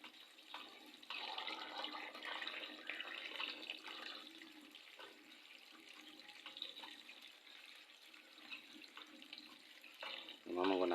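Water pouring steadily from a small homemade aquarium pump running on a 6-volt battery, a continuous near splashing flow throughout with a louder gush right at the end.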